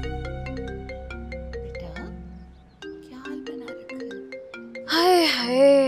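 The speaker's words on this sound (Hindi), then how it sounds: "किसका फोन है?" A mobile phone ringtone plays in a home as a repeating electronic melody of bright tones, steady and fairly loud, with a voice briefly speaking over its end.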